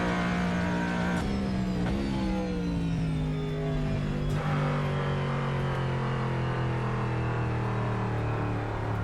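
Car engine in a racing sim video game revving hard with a steady droning pitch that slowly falls, a couple of sharp knocks breaking through as it blows up, loud and close throughout.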